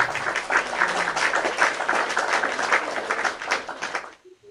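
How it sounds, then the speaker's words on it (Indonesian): Audience applause from a crowd at a discussion event, with dense, steady clapping that lasts about four seconds before cutting off abruptly. "Kasih tepuk tangannya dulu."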